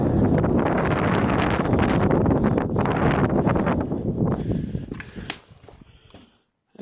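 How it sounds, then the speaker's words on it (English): Strong wind buffeting the microphone outside an old stone storage barn in the Yorkshire Dales uplands, a loud continuous roar with gusts that eases and drops away near the end. "It is getting a bit breezy, so I hope you can hear me alright"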